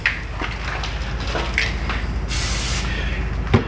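An aerosol can of lubricating torque spray hisses onto a bolt during an in-tank fuel pump replacement on a 2016 GMC Sierra: one short, sharp burst of spray amid scattered clicks and clanks of work nearby.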